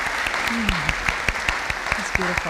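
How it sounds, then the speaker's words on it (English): Audience applause following a heartfelt song, steady clapping filling the room while a voice speaks briefly over it. "So let's give him another round of applause."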